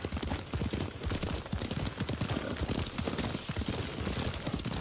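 Horse hooves clip-clop at a steady riding gait in Ghost of Tsushima, a dense rhythmic pattern of close, loud hoofbeats running through the whole stretch.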